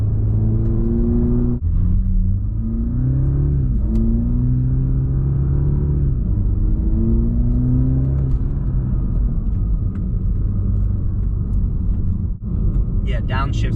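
A Toyota Supra 2.0 engine revs and drops through gears, the pitch falling and climbing in steps over a steady road rumble, with a person talking over it throughout.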